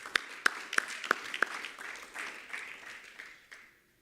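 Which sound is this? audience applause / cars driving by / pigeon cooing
audience applause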